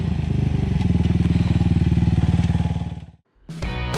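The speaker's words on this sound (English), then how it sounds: "Here comes Wayne on my Burbling Beast" A Suzuki DRZ400 motorcycle rides close past with a loud, pulsing single-cylinder burble that fades out abruptly near the end before a brief burst of clattering noise.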